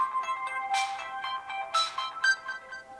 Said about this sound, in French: J'ai un appel, il faut que j'y réponde.